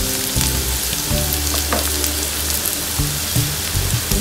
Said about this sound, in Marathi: कांदा व्यवस्थित परतून घेतल्यानंतर आपण शेवग्याची चिरलेली पानं घालणार आहोत आता त्याच्यात